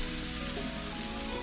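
Halved onion sizzles in a hot cooking pot, a dense steady hiss of frying that carries on unbroken and fairly loud, with no voices over it.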